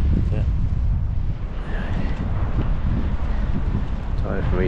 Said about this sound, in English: This wind is actually pretty chilly.